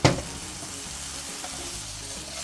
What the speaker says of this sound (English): Now add more butter, mix, stir